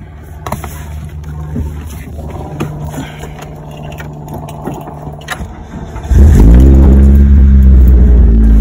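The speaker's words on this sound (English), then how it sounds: "Start it up and see if the check engine light stays off." A Mitsubishi Eclipse engine cranks and starts partway through, shifting from quiet workshop background to a loud, steady idle rumble that runs close and continuous to the end, just after EGR reinstallation.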